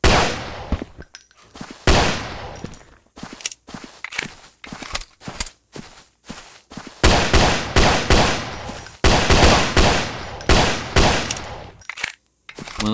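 Gunfire in a Bigfoot hunting video game: loud, rapid bursts of shots fire in dense clusters, with short gaps and sustained volleys throughout.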